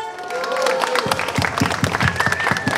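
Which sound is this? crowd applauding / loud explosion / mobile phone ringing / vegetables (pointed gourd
crowd applauding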